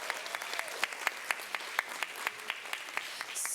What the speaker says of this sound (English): Give a round of applause to Miss Pitchford.